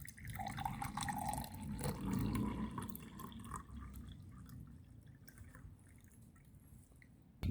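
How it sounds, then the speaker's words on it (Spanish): Water poured from above into a glass holding a coin for a light-refraction experiment, a soft continuous splashing and trickle that gradually thins out, close and fairly quiet. "Ahora le voy a poner agua y ya vamos a ver lo que pasa."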